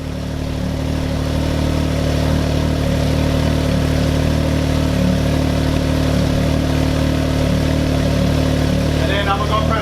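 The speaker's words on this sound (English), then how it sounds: "So this is how it sounds with the Yoshinoya exhaust." A 2020 Can-Am X3 Turbo RR side-by-side turbo engine with an aftermarket Yoshimura exhaust idles loudly and steadily with a deep, throaty exhaust rumble, close by and continuous throughout.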